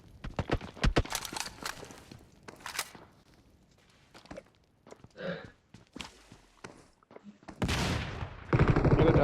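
Gunfire in the BGMI battle royale game: sharp single shots and quick bursts spaced irregularly, mixed with footsteps and movement sounds, ending in louder sustained noise.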